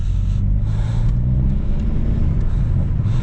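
A Hyundai i30N with a 2-litre engine in N mode rumbles steadily from inside the car, a deep continuous engine drone that holds at one level for a few seconds, with no talking.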